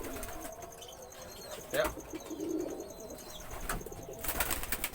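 Paired pigeons coo softly in short low calls, with faint chirps and a brief wing flutter, against a quiet outdoor background and a short spoken word.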